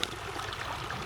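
Water pours through a buried PVC drain beneath a racetrack road, a brief steady rushing and gurgling wash with no voices.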